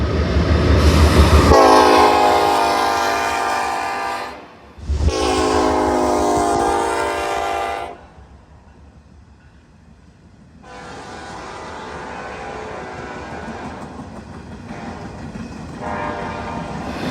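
Norfolk Southern steel local freight train with 2-9 locomotives passing close and loud, long horn blasts sounding with rumbling wheels and a brief gap between, then the rolling cars carry on more quietly.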